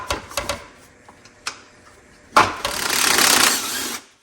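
Metallic clicks and scrapes of a wrench working the top intake bolt on a Nikki carburetor of a 22–26 hp Briggs and Stratton V-twin, scattered ticks followed by a louder, sustained rasp close by.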